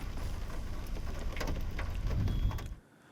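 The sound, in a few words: unseasonal heavy rain with hail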